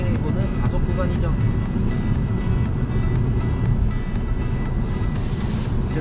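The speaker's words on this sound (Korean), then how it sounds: "이제 고속 주행해보는 가속 구간이죠." A car accelerates along a Korean highway with a beginner at the wheel, heard from inside as a steady, loud low road-and-engine rumble that holds throughout, with voices mixed in.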